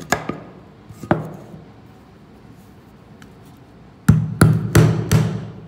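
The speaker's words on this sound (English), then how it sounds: "That's a hammer, right? Hammer, used for driving a nail." Hand hammer driving a nail into wood: a few isolated sharp strikes early, a quiet pause, then a quick run of four loud, evenly spaced blows close by, with no talking.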